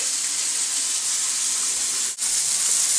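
Food sizzles steadily in a heavy, solid cast iron frying pan with a constant hissing fry close to the microphone, no voices present.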